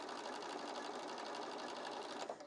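A sewing machine stitches a seam on a pot holder, a fast, even mechanical whirr with rapid needle ticks running steadily and close, then stopping.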